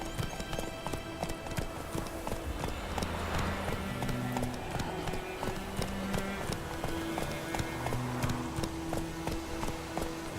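Horse hooves clip-clop at a steady galloping rhythm across The Witcher 3, continuous and fairly close over a layered game music and ambience bed, with no talk.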